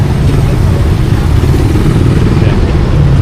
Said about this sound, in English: Got all the motorcycles here